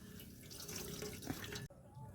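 Grated ash gourd squeezed by hand to press out its juice, a wet splattering trickle of liquid falling steadily for about a second and a half before stopping abruptly.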